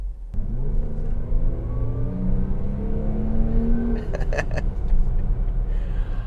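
A 2017 Jaguar F-Pace accelerates from inside the cabin, with the engine note rising in pitch through the gears as a steady rumble builds up.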